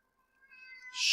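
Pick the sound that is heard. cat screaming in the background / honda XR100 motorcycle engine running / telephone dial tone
cat screaming in the background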